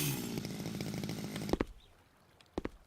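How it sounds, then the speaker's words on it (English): Chainsaw in the House Builder video game, droning steadily for about a second and a half before cutting off, followed by a couple of sharp clunks in the quiet. "Glen's getting excited with the chainsaw he is."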